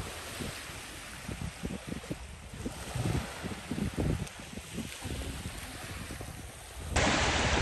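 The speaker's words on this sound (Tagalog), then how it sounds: "Alon." Waves at Kite Beach in Jumeirah roll in with a wash of surf under steady wind noise, low rushing swells rising and falling before a louder surge near the end.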